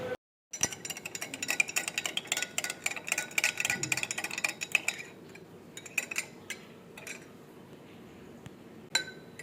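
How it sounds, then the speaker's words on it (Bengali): A spoon clinks and rattles rapidly against a glass while lemon sherbet is stirred, bright close chimes in dense bursts that thin out toward the end with a few scattered taps. "মাকে লেবুর শরবত করে দিচ্ছি"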